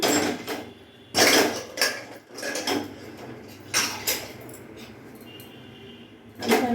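Metal lid of a pressure cooker holding cut potatoes clanks shut and the pot is set down on a gas stove, giving several sharp close knocks and scrapes separated by quieter kitchen background.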